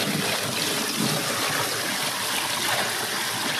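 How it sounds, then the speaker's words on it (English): Water pours steadily into a homemade aeroponic cloner unit, a continuous rushing splash filling the container at close range with no talk over it. "next step is to put it into the unit and add some water."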